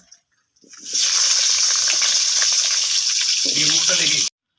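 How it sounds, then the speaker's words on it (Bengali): Potatoes dropped into hot oil left from frying pointed gourd burst into a loud, steady sizzle after a brief quiet start, holding evenly up close until it stops sharply. "এই তেলের মধ্যে আমি আলুগুলো ভেজে নেব।"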